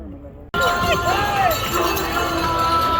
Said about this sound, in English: Check out the crowd, guys, in this COVID situation